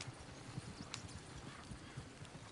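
Horses in the video game Red Dead Redemption 2, hooves clip-clopping in a steady trotting rhythm, fairly close, alone without talk.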